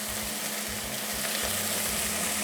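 Mushrooms sizzling and bubbling in a hot pan as their moisture boils off for a Cajun-style jambalaya, a steady dense crackling hiss with no pauses.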